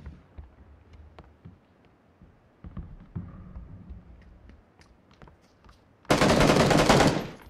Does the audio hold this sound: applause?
no